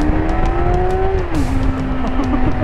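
A motorcycle on a road trip to Hellfest pulls away in first gear, its engine droning steadily close by, then the pitch drops partway through before the rev holds level again.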